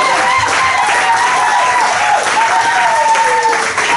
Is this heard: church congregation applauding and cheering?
yes